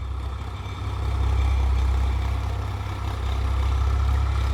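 A modified Ford 3600 tractor engine runs steadily in a farm field, a loud, continuous low rumble with a constant idling drone and no pauses.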